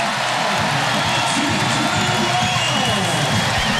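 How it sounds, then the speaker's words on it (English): A volleyball arena crowd cheers and roars steadily after a long rally in a women's college match between Hawaii and San Diego State, with a commentator talking over the noise. "And the crowd loves it."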